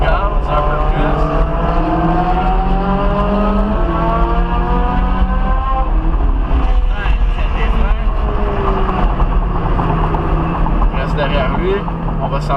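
A Ferrari 458 Italia on a race track, its engine loud and continuous as it accelerates, with rising and shifting tones throughout and a constant close roar.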